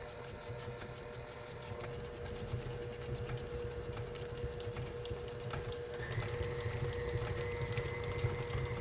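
Electric stand mixer with a rubber-spatula beater running slow while mixing fruit pizza dough, a steady close motor whir and rhythmic churning that grows slightly louder near the end.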